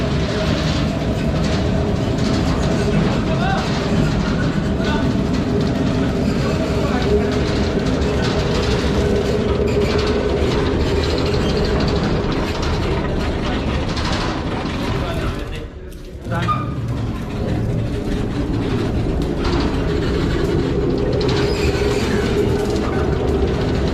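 A locomotive shunts onto another track at the Khewra Salt Mine, a steady rumble of rolling wheels with faint rhythmic clatter and squeal, while someone speaks over it.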